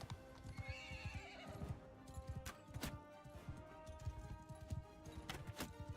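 A horse in Mount & Blade II: Bannerlord gives a loud, rising whinny near the start while its hooves clop in a rapid, steady rhythm throughout.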